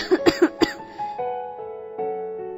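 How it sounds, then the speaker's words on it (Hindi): A woman gives four quick, sharp coughs in a row, close and clear, followed by a short, soft strained vocal sound as she recovers. "तुम्हारी खांसी ठीक नहीं हुई अभी?"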